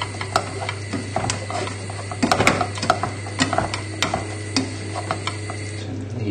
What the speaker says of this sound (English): Give it a good mash together, get rid of all the lumps.